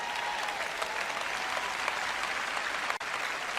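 Church audience applauding, a steady wash of many hands clapping at even loudness throughout, no voices over it.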